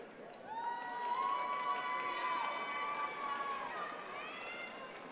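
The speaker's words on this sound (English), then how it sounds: "a big round of applause for the Titans for a great 2024 season" A crowd cheers and shouts steadily at a Cumberland finals high school basketball game, Twin Springs versus Eastside at UVA Wise, with loud voices blending into a continuous roar.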